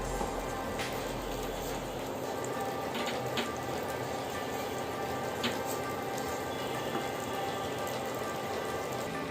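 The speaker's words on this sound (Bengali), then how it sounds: "প্যানটা গরম করে আমি বাটার দিয়ে দিলাম।" Butter sizzling in a hot pan for a breakfast butter bread omelette, a steady crackling hiss that runs on throughout with small spits and pops.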